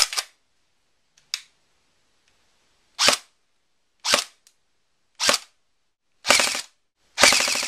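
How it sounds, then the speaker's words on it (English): A tan G&G GR16 carbine airsoft electric gun fires single shots with pneumatic blowback, six or seven sharp loud cracks spaced about a second apart, the last ones longer with a mechanical whir of the bolt cycling. "A really cool thing about this gun, a very neat feature, is that it does have the pneumatic blowback."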